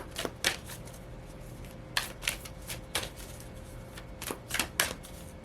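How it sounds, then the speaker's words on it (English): Tarot cards being shuffled by hand, close and crisp, in quick riffling bursts that come in small clusters separated by short pauses, with no talking. "I just shuffled the mess out of these cards"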